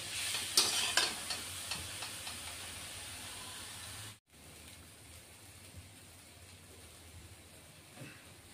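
Spice paste fries in a pan for Bengali rui fish curry, with crackling sizzles and stirring scrapes at first, then a sudden cut to a softer, even hiss.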